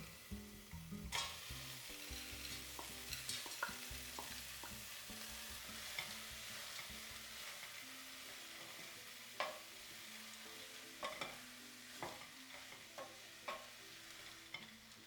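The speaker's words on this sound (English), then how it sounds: "sauteing lightly just until the carrots soften a bit" Carrots, chopped pepper and peas are sautéed in a pan, giving a soft continuous sizzle broken by occasional scrapes and knocks of a stirring utensil, close and fairly quiet, with no voices.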